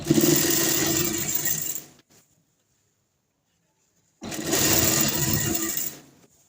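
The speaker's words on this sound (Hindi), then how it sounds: "इसी तरह हमने साथ साथ इलास्टिक लगाते जाना है और सिलाई करते जाना है।" A sewing machine stitches elastic into palazzo pants in two loud, steady runs of rapid whirring, separated by about two seconds of silence.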